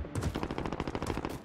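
Rapid automatic gunfire from the video game Warzone, a dense burst of evenly spaced shots rattling for over a second, loud and close with no talk over it.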